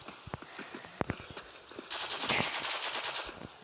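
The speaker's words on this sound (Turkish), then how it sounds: "Oğlum nereden sıkıyorlar?" Video game gunfire comes as scattered sharp shots, then swells into a denser, sustained burst of rapid fire in the second half, loud and close.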